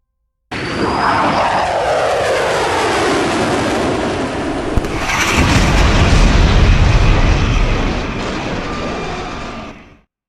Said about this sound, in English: 4 engines start to increase at full power.